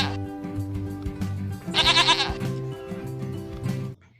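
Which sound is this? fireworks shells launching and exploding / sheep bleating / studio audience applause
sheep bleating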